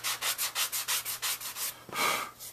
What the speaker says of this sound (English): you can actually come back with your sanding pad